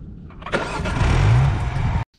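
A race car engine cranks briefly then catches and roars into a rough, loud start that swells and cuts off abruptly after about two seconds, close and without voices.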